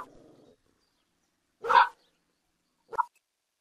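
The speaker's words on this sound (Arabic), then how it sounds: "الكلب." An augmented reality app on a phone plays a dog sound: two short, separate barks with a pause between them, clear against near silence after a faint murmur at the start.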